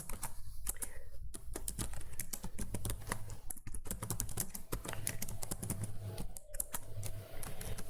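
Rapid typing of code on a computer keyboard, a continuous close clatter of keystrokes with short pauses, no voices present.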